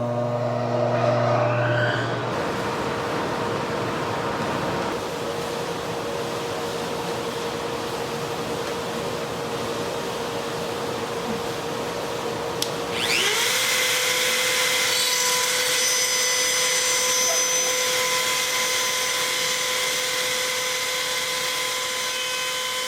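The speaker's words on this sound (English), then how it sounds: "dust collection going also" A woodshop dust collection system spinning up and running as a loud steady whooshing roar with a sustained hum, its pitch shifting about halfway through, no talking.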